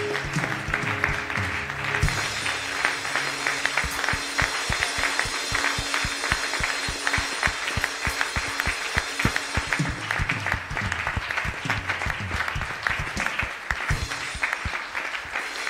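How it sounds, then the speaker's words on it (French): A church congregation claps together in praise during a service in Tangier, a dense sustained applause with fast irregular hand claps filling the room, carrying on steadily for the full stretch with a faint voice underneath. "On peut bien acclamer le Seigneur des armées"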